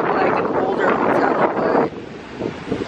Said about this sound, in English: I don't know if you guys can hear me because it's super windy